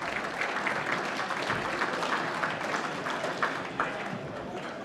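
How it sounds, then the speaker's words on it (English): A hall crowd gives a loud, sustained round of applause for the chairman at a football and netball awards night, dense clapping throughout with faint crowd noise beneath. "Round of applause for the Chairman."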